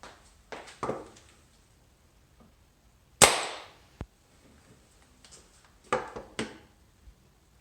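An airsoft revolver loaded with a six-BB ratshot shell fires one sharp, loud crack through a chronograph, with a short decaying tail and a few quieter clicks and handling clatters before and after.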